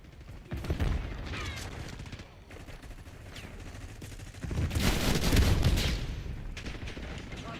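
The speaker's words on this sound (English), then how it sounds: "Enemy sniper shooting." Enemy sniper fire in Call of Duty: Black Ops 6 on the Maelstrom map cracks amid a dense battlefield of scattered gunshots and heavier bursts, with a loud surge near the end.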